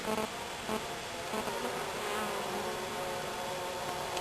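Honey bees from a bee package being installed into a hive give a dense, continuous buzzing drone, close and steady throughout, with no voices.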